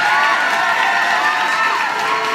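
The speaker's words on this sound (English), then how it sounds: "The audience cheered loudly." A crowd of spectators cheers loudly at a street performance by a big brown dog, a continuous dense roar of voices and whoops sustained evenly from start to finish.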